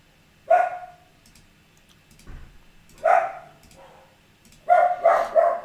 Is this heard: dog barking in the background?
yes